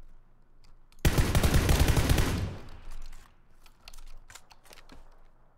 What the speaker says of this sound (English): Who are they shooting at, though?